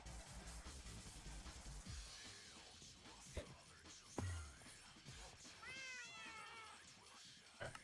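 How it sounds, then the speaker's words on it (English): House cats meow repeatedly in a room, several rising and falling cries near the end, with a quick cluster of short meows, over steady indoor background noise. "it was the other billion cats that I have in my house"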